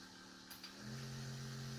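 A Relxbit handheld massage gun running at its second speed setting, a steady low motor hum that swells in after a short click, continuous and fairly quiet, with no talking.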